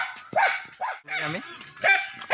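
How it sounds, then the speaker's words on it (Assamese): Several sharp dog barks ring out close by, with short gaps between them, and a person speaks briefly among them. "এইফালে কুকুৰে পূৰা ভুকি আছে"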